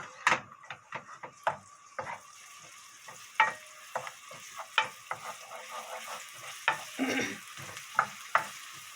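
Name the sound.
stirring and frying garlic in a pan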